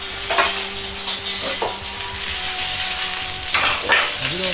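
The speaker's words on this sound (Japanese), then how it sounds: "生姜が油でパチパチと弾けてきたら" Ginger crackling in hot oil in a pot over low heat while stir-frying for a spicy carrot dish, a steady close sizzle with brief louder bursts of popping throughout, no voices.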